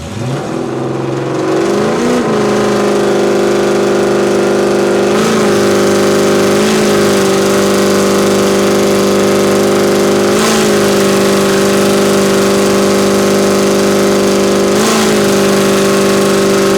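A Ford Foxbody Mustang engine held at a steady 3,000 RPM, a loud, continuous droning hum with slight periodic swells in pitch, running alone with no talking over it.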